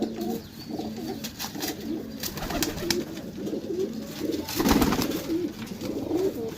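Pigeons coo repeatedly in low, soft rounded calls through a loft setting, with one louder burst of cooing near the end over a steady background hiss.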